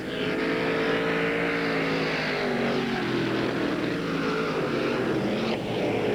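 Late model stock cars race on a speedway, a sustained layered engine roar with shifting pitch as cars sweep through a turn, steady and mid-distance throughout, no voices over it.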